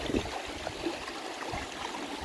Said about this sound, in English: The water's pouring out of the pond between them rocks down here.